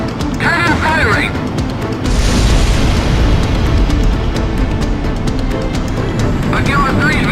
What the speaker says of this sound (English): In 10 seconds. 5, 4, 3, 2, 1. Cannon firing!